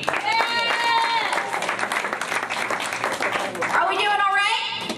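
Audience applause and cheering at a stand-up comedy benefit show, a steady wash of clapping from a packed crowd with whoops rising over it, continuous and fairly loud through the whole stretch.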